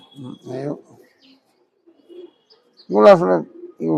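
Tournament racing pigeons at a home loft give a few close, throaty coos in separate bursts with short silences between them.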